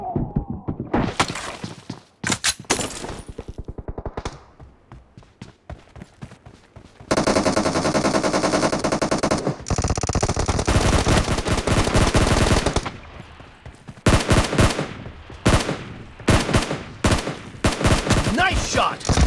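Rapid bursts of automatic gunfire from the PUBG battle royale game, loud and close, with clustered volleys broken by short gaps and one long sustained stretch of continuous fire.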